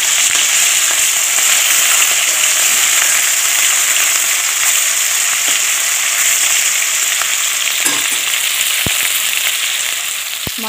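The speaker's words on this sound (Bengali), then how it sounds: "মাছগুলো আমি উল্টে পাল্টে ভেজে নেব।" Pieces of hilsa fish sizzle in hot oil as they are turned over, a dense, steady frying hiss with occasional crisp pops and a few faint utensil knocks near the end.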